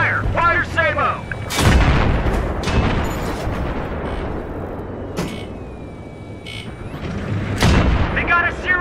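Tank cannon fire in the video game Battlefield 3: several heavy booms with sharp cracks, spaced a few seconds apart. Shouted radio chatter and rumbling engines run underneath.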